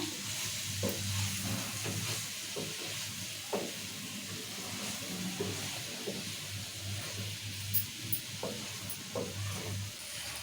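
Meal maker (soy chunk) curry being stirred in a sizzling pan with salt and garam masala, a spoon scraping and mixing steadily over continuous frying hiss with no talk.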